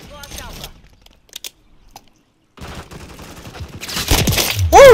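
Gunfire from a small-map multiplayer match in Call of Duty: Modern Warfare III: a short burst near the start, sparse isolated shots, then loud sustained automatic fire and an explosive roar building toward the end, with no talk.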